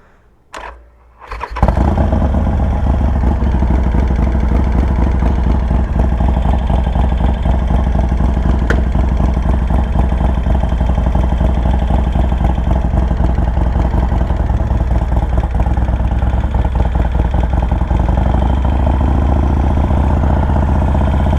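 A new Harley-Davidson Sportster motorcycle cranks and fires after a brief quiet moment, then settles into a loud, close, steady idle with a deep, even pulsing rumble that continues unchanged.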